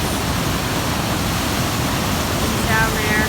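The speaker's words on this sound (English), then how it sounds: "Look at this beautiful, beautiful waterfall." Fat Man's Falls in Temagami, a waterfall among rocks, pouring out a loud, steady broadband roar that fills the whole span without pause.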